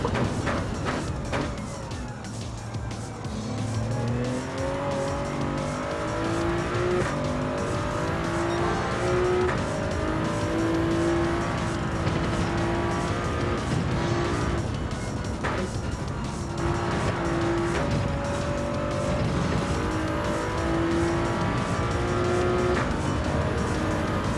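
Racing car engine and tires: a continuous loud engine drone rising and falling through gear shifts and throttle changes, with tire noise underneath, close and unbroken throughout.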